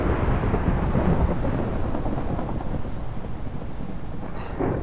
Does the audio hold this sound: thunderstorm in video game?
yes